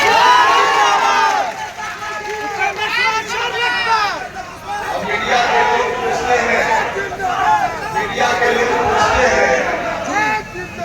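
A big crowd at an outdoor NDA election rally in the Karakat Lok Sabha constituency fills the air with loud overlapping voices, shouts and cheering bursts that rise and fall continuously.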